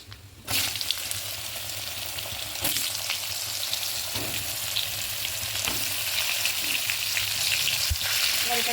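Pointed gourd and potato dropped into hot oil seasoned with bay leaf and nigella seeds, bursting into a loud, continuous sizzle that holds steady with occasional clinks and scrapes of stirring.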